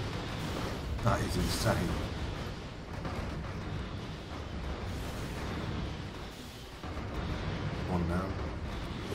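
Ship weapons fire in a space battle in the strategy game Stellaris, a dense, continuous rumble of booming blasts and explosions that never lets up, with someone talking briefly over it.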